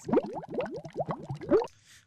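Bubble sound samples: a quick string of about half a dozen rising liquid blips in close succession, bright and wet, ending in a faint hiss.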